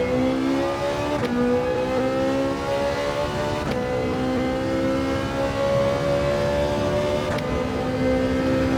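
A Ferrari GT4 race car in Gran Turismo 7 drones loudly under engine braking, its pitch sliding steadily downward and broken by three sharp gear changes, with no voices.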